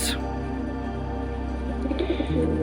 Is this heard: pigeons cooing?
yes